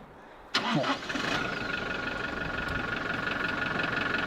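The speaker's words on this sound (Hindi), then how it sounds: "गाड़ी को थोड़ा सा स्टार्ट करके छोड़ते हैं पहले।" A car engine cranks and catches after a half-second of quiet, then settles into a steady, fairly loud idle with a high whine on top, heard close up before a road trip toward Leh Ladakh.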